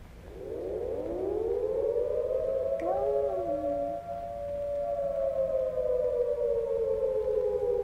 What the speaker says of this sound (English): If you hear an attack warning siren, head for shelter right away.